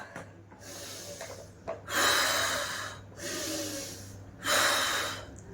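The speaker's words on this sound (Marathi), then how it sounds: "जेवढा जितका मोठा श्वास भरणार तितका मोठा तुम्ही श्वास सोडायचा आणि पोटाला आतमध्ये खेचायचं" Deep, forceful breaths in and out through the nose during a seated belly exercise, several long hissing exhalations in a slow steady rhythm, close and fairly loud.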